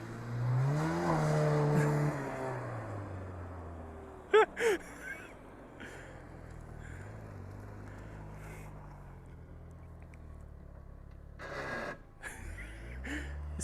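A Foxbody Mustang on coilovers revs its engine during a drift test, a loud droning rev that rises and then drops off, followed by a few sharp mechanical clunks and a quieter idle with a later burst of noise.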